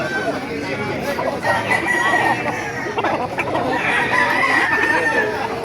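Several roosters crow over steady clucking from a flock at a chicken market in Baliuag, a busy, continuous farmyard chorus close by.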